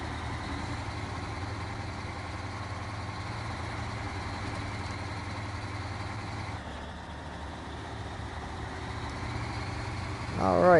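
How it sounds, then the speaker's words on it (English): A Z2 tractor idles in Snowrunner's winter proving grounds, a steady, low diesel drone held for several seconds with a voice talking over it, then revving and rising in pitch at the end. "Testing a new Z2 tractor model in the winter proving grounds."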